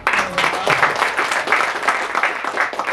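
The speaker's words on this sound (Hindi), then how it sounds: "ताली आ जाए यार" Audience at an open mic night in Ahmedabad bursts into steady clapping and applause, dense and sustained throughout, with a few voices mixed in under the claps.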